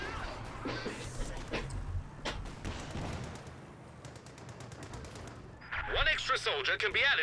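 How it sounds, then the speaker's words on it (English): MG42 machine gun in a Company of Heroes 2 battle rattles off bursts of rapid fire amid broader gunfire and artillery-like bangs, with a voice talking over much of it. "now getting up close and personal with the MG42"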